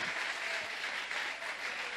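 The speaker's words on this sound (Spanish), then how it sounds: "Denle un aplauso al Señor, mis hermanos y hermanas" A church congregation applauds together during a sermon, a steady wash of clapping that holds evenly for the whole stretch at moderate, somewhat distant loudness with no voice on top.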